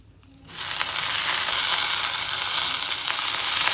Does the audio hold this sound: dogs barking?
no